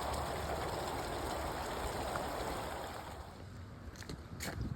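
A small waterfall spills beside the Appalachian Trail in northern Maryland while a bottle is filled, giving a steady, close rush of splashing water. A few brief knocks near the end stand out over the flow, with no talk.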